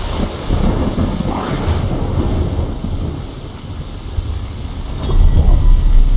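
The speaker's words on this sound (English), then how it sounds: "As you can hear, we spawned into the game and it's raining" Steady rain pours in the Soulmask game world with low thunder rumbling beneath, a continuous dense wash that swells louder near the end, with no voices.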